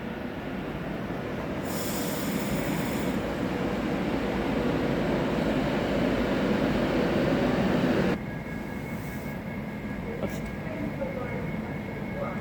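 A Pendolino train on the West Coast line arriving at Coventry station, a steady loud rumble of rolling stock with a brief high squeal, then a quieter platform ambience with a tone near the end.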